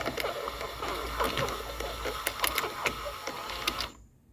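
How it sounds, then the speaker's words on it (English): A Hirschmann power antenna motor from a 1982 Mercedes 300SD whirs and rattles mechanically as it retracts, running loud and continuous for about four seconds before stopping abruptly. "if you want to retract the antenna, you remove the jumper, and we just apply power to any of the other pins."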